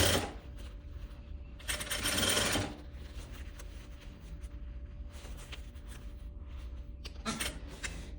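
A sewing machine stitches a vest in short close bursts, loud whirring runs separated by quieter mechanical ticking and handling, with no talk.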